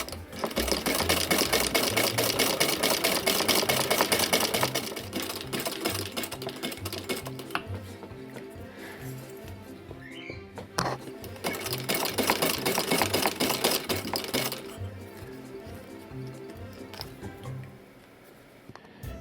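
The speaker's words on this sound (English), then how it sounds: "Now with a sewing machine or by hand, I'm going to sew down here first" A sewing machine stitching a sock puppet's mouthpiece, running in fast continuous rattling bursts with brief pauses and restarts, close and loud throughout.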